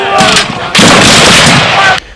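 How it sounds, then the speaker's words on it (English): A cannon fires at a Civil War reenactment at Gettysburg, Pennsylvania: a loud, close blast that rolls on for over a second, with a fainter rumble just before and the sound cutting off abruptly. "Yes, that's me firing that cannon."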